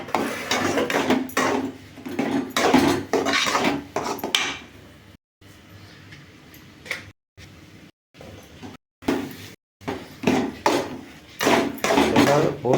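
A spoon scraping and knocking in a pan while rava upma is stirred, irregular clattering bursts separated by short pauses, fairly close, with brief talk woven between the stirring.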